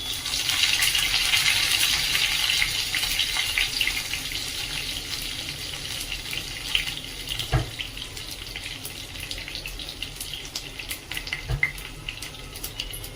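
Crushed ginger, garlic and curry leaves sauté in hot oil, a loud steady hiss that is strongest at first and slowly eases into a softer sizzle, with a couple of light knocks near the end.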